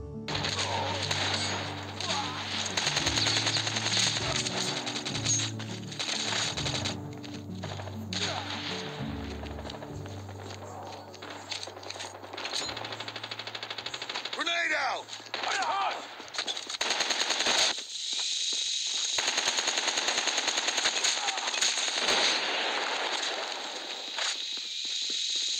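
Rapid automatic gunfire from a rare weapon in Call of Duty Mobile, long sustained bursts with short gaps, loud and close, with other game sounds mixed in.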